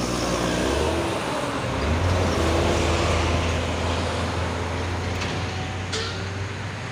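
A Sumatran bus drives past on the road, its low engine rumble steady and close under general traffic noise, with a couple of brief higher-pitched sounds near the end.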